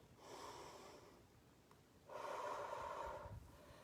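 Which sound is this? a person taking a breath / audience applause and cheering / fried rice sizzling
a person taking a breath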